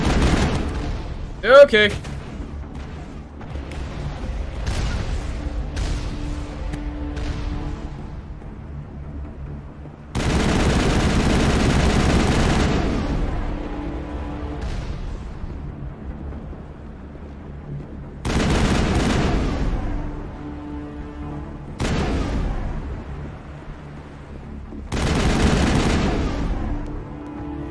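Rapid bursts of gunfire and booming blasts from the video game Mass Effect come in heavy clustered volleys with brief lulls, loud and close, while a player talks over them.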